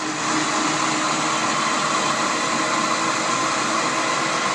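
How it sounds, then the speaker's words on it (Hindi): A blender whirs steadily as it blends milk for homemade yogurt, a loud, even motor roar that runs without a break for about four and a half seconds, with no voices. "15 सेकंड के लिए हमने दूध को अच्छी तरह से ग्राइंड किया है।"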